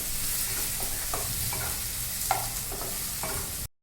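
A small tomato fries in a pan after onions, a steady close sizzle with soft stirring scrapes at intervals, no talking, ending abruptly.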